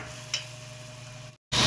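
Green chili and peanut chutney with coriander stirred into a hot tempering pan with cumin, giving a steady soft sizzle with a brief scrape, cut off by a short silence before louder sizzling resumes.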